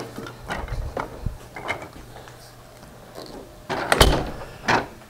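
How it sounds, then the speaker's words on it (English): Side door of a house with a Tennessee fieldstone chimney outside, giving several irregular knocks, clicks and thumps as it is opened, with louder clunks near the end and no talking. "we're gonna go ahead and take this side door"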